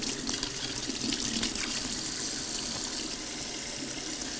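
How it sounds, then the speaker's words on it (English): A kitchen tap runs steadily while hands are washed under it, a close continuous splashing gush with slight variations as the hands move through the stream. "Wash your hands."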